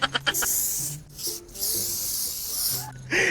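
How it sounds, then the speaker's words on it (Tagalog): An aerosol spray can hisses out paint in several bursts, some short and some sustained, with brief pauses between, loud and close. "Spray pala, hindi pala foam spray."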